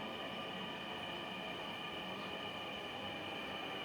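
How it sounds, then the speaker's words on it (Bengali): A steady, loud rumble of a Dhaka metro train from Motijheel to Uttara rolling into a station, with a constant roar and faint high whine and no voices. "মতিঝিল থেকে উত্তরাগামী একটা ট্রেন স্টেশনে এসে পৌঁছালো"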